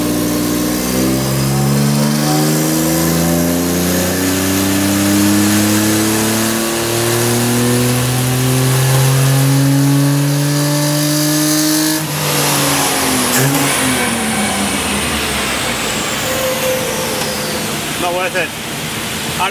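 A modified car engine running without its air filter during an intake test, revved hard several times, each rev sweeping up in pitch and falling back, loud and close, with a throaty roar throughout.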